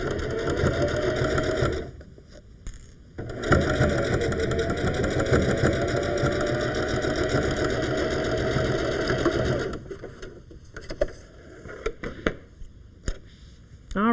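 A sewing machine stitches through thick sweater fabric in long, steady runs of rapid mechanical whirring, broken by brief pauses and a few clicks near the end, close and loud with no speech.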